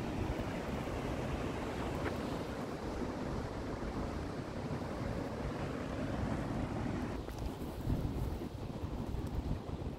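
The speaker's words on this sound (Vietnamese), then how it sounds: "sóng vỗ gần đá kìa" Ocean waves break against rocks near a New Hampshire lighthouse, a continuous roaring wash of surf mixed with heavy wind rumble on the microphone, steady and fairly loud.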